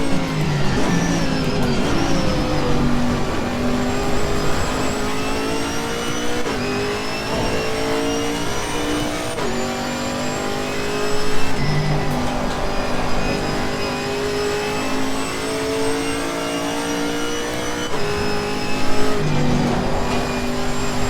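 A Camaro GT4 race car in Assetto Corsa Competizione at Bathurst holds third gear, its engine droning loud and steady with a slowly rising pitch as it revs through a long gear, with brief dips and swells but no pause.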